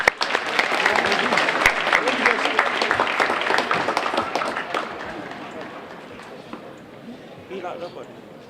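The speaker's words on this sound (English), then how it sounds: "Give him another round of applause" Audience applause at a school assembly, a dense burst of clapping that is loud at first and thins out toward the end.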